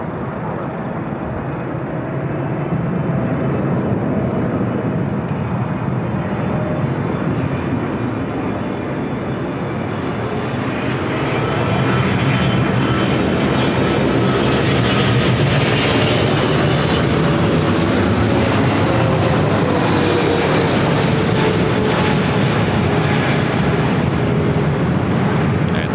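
Jet airliner taking off from a runway at Los Angeles International Airport, a broad continuous engine roar that swells louder partway through and holds steady, heard from a distance with no talk over it.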